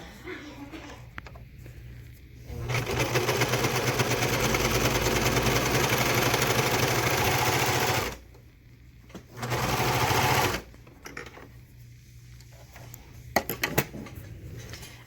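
A serger runs in two bursts as it trims and stitches the fabric edge of a face mask. The first run is long and fast, the second shorter, and quiet handling noises fall before, between and after them.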